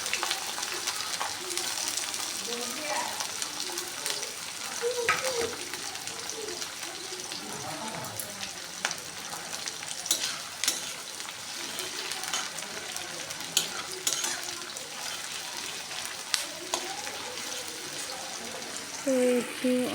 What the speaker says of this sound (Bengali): কুচানো পেঁয়াজগুলো দিয়ে একটু লাল লাল করে ভেজে নেব আর কি